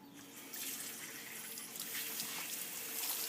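Hot water runs from a tap over shotgun parts being rinsed of soap, a steady hissing splash that stays close and fairly loud throughout.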